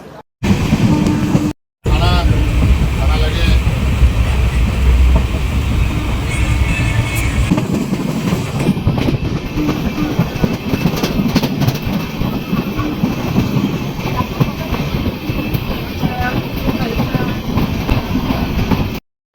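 A passenger train rolls toward Murshidabad station on the Kolkata–Mizoram route, steady rumble and rhythmic clickety-clack of wheels on rail heard from inside the carriage, continuous and fairly loud throughout.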